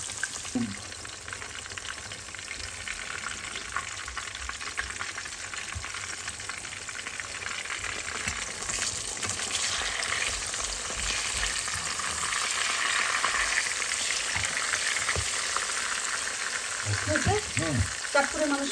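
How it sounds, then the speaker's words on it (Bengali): Pieces of hilsa fish fry lightly in hot oil in a home kitchen, producing a dense, continuous close sizzle that swells slightly louder toward the end, with a few faint clinks near the finish. "মাছ আমি ইলিশ মাছগুলিকে হালকার উপরে ভেজে নিয়েছি"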